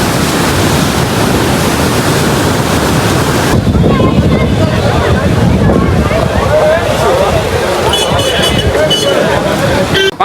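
Floodwater of the Navli river at Savarkundla surging forcefully after rain, a loud continuous roar buffeted by wind noise, with voices murmuring nearby.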